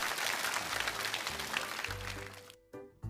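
Applause from a studio audience at a televised lecture show, a dense, fairly quiet clatter of clapping that fades out near the end, followed by a brief silence and then a short burst of sound.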